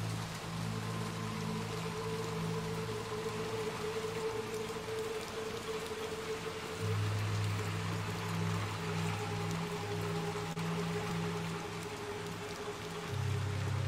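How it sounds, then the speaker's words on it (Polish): Steady video-game rain in Little Nightmares 2 patters continuously over a low droning hum, with no voices; the hiss stays even throughout. "Szybko, bo pada."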